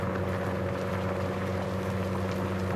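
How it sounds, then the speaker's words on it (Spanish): A John Deere tractor engine runs steadily close by while ploughing, a smooth, even diesel hum with a strong low throb and no speech. "escuche nada más la calidad del motor de este John Deere"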